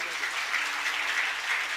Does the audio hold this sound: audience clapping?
yes